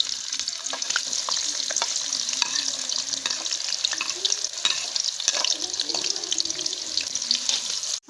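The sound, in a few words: onions frying and stirred in hot ghee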